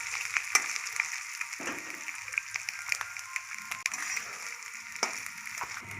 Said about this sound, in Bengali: দেখো, এবার নারকেলটা আমি ভেজে নিচ্ছি।